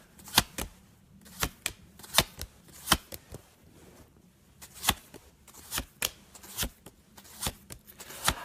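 Tarot cards being shuffled by hand at a reading, a close series of crisp riffling snaps and slaps in an uneven rhythm, with no talk.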